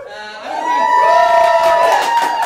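Live audience at an improv comedy show cheering and whooping for a stage helper named Carolyn, a loud, sustained burst of crowd voices that swells and holds without pause.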